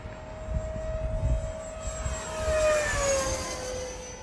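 A small RC model jet engine whines past at speed, its high pitch sliding downward as it goes by, moderately loud with no talking.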